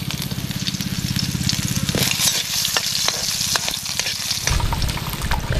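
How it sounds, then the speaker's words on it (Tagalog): Garlic sautéing in a hot pan gives a loud, continuous sizzle with stirring scrapes throughout, close and steady, and the frying surges brighter near the end. "Gisa natin yung ating bawang."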